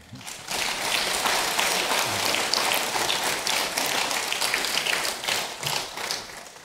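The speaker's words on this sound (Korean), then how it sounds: "웃어주실 때 박수로 격려해 주시길 바랍니다" A church congregation at a Sunday evening service applauds, a dense patter of many hands clapping steadily for several seconds before thinning out.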